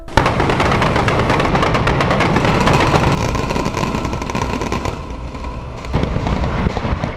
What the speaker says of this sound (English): They planned a noisy, brash fireworks display to go off at the same time as the controlled demolition